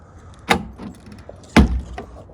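Two sharp mechanical thuds about a second apart as a Tofaş Doğan car door is opened, with faint rustling between them and quiet background.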